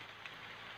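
Rain falling outdoors, a brief, faint, steady hiss of drops with no voices.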